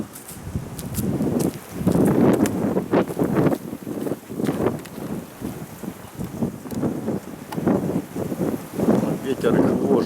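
Strong wind buffets the microphone outdoors during a pigeon flight, gusting in uneven roaring bursts that rise and fall throughout, with brief clicks and knocks mixed in.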